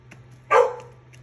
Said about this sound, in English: please excuse my dog. She's upset that I closed the door on her.